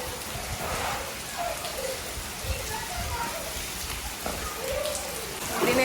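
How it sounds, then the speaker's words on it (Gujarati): Heavy rain falls steadily on surfaces nearby, a continuous patter with scattered drops, while people talk and call out faintly over it. "પલડી જાય એવો વરસાદ છે."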